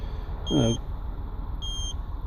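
A car's LPG system sounds two short, high electronic beeps about a second apart at start-up, clear over a low background rumble, with a brief voice fragment near the first beep.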